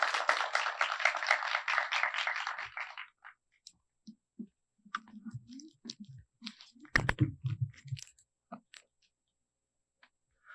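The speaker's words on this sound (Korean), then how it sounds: "큰 박수로 맞아주세요" An audience at a final project presentation event for an AI developer training course applauds briefly for about three seconds as a team is welcomed. The clapping then stops, leaving scattered small clicks and shuffling in a quiet room.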